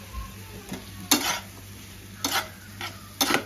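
Boiled pasta being stirred in a pan over high heat for chilli pasta, with a soft sizzle beneath several distinct scraping strokes of a spoon against the pan.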